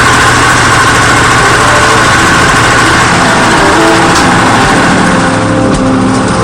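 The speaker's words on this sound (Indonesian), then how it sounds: "Gurilem kering akan disangrai pada 2 buah drum besar yang terus berputar." A large rotating drum machine roasts dried gurilem crackers, producing a loud, dense, unbroken mechanical roar with a steady motor drone and continuous rattle, no voices present.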